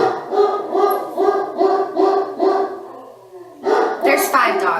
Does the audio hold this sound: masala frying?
no